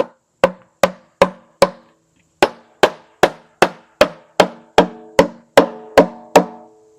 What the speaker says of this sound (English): line this up on the top so that when I hammer, both ends are going in.